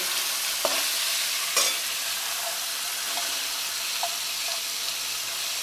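Vegetables and peas being stirred in a frying pan, a steady close sizzle with a few sharp scraping clinks of the spoon scattered across it; no talk.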